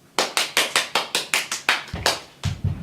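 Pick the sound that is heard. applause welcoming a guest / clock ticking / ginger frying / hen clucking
applause welcoming a guest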